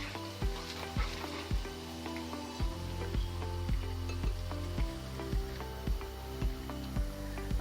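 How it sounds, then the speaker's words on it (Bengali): Garlic fries in a pan and is stirred, a soft continuous sizzle broken by regular scraping knocks of the spoon against the pan roughly twice a second, fairly quiet and with no talking. "আমি রসুনটাকে নেড়েচেড়ে একটু বাদামি করে ভেজে নিচ্ছি।"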